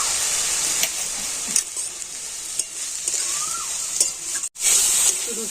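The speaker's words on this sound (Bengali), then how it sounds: "নোটে শাকটা আমি ভেজে নিয়েছি" Amaranth greens (note shak) frying with browned onion, salt and a little turmeric in a pan: a steady, bright sizzle fills the clip, broken by a few stirring scrapes and one brief clatter near the end.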